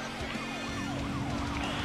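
A police car siren in Need for Speed Most Wanted wails in continuous rising and falling sweeps, loud and close over steady engine noise, with no talking.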